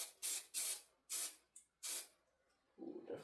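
Short bursts of aerosol headliner glue hiss from a spray can inside a 1991 Dodge Grand Caravan, five distinct sprays of varying length close up, followed by faint rustling.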